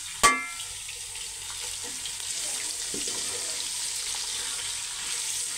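Vegetables drop into hot oil with frying ginger and garlic, a single sharp hit followed by a steady close hiss of sizzling.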